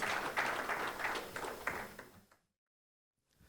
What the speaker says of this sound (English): Please give a round of applause for our esteemed panelists.